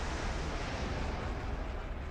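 A missile launch in the DCS World flight game, heard as a sustained roaring whoosh that holds steady for about two seconds.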